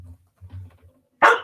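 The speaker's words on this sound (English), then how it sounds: "That's my dog objecting." A dog barks once, a short sharp outburst near the end following a brief stretch of quiet low sounds, fairly close and loud.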